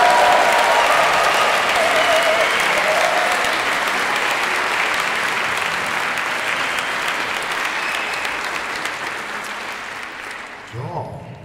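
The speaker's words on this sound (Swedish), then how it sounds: "en applåd för dem." Applause for young pupils at a spring evening school concert, a long burst of many hands clapping that starts strong and gradually tapers off before ending, followed by a voice.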